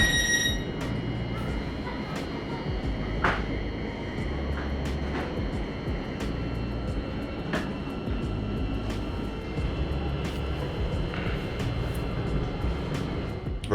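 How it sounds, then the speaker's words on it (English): A Great Northern Class 717 six-car electric train runs on the Northern City Line, giving a steady rumble with a low hum and repeated faint clicks and ticks from the wheels and rails throughout. "the 25 6-car Class 717 trains currently run on the Moorgate to Welwyn Garden City and Hertford North service"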